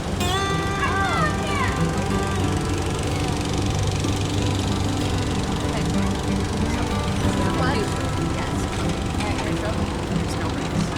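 Wheel Horse garden tractor's small engine cranking and then running with a steady rough mechanical drone, while people talk loudly over it throughout.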